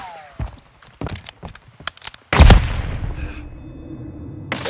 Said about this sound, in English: Launch a javelin.